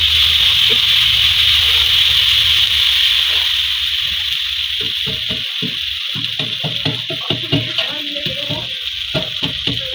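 Water splashes into a hot pan with a loud hiss that fades over a few seconds, followed by clattering and scraping of utensils nearby.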